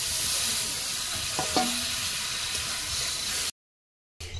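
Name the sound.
water added to frying spiced potatoes, sizzling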